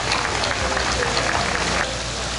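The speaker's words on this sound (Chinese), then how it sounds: "一个热烈的掌声。" A crowd at an anniversary event for a science park bureau applauds warmly for the committee chair, a dense steady wash of clapping throughout.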